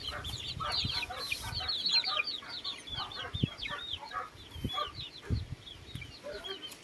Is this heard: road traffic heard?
no